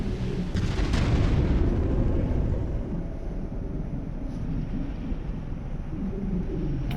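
Gunfire in the video game No Man's Sky rumbles as a continuous stream of heavy, booming blasts, loud and dense throughout, with no voices.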